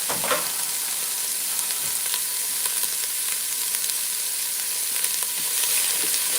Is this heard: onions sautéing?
yes